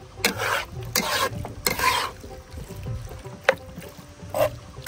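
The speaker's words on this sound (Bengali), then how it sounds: "এবার সুন্দর মতন ভাজা ভাজা করে নেবো মাশরুম।" Mushrooms fry in a pan, with soft sizzling broken by several bursts of stirring and scraping close by.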